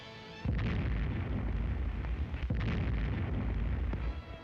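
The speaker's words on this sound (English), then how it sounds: "Off Shannon Island, the Nazi trawler is sighted and American guns cut loose." Naval guns on American Coast Guard ships fire on a German trawler off Shannon Island in 1945, a heavy sustained roar of gunfire with two sharp booming bursts about two seconds apart, loud and close, with no talking.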